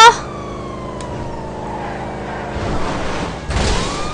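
Police car siren in the GTA 5 video game, a wailing tone sliding down under engine and traffic noise, with louder driving rumble toward the end.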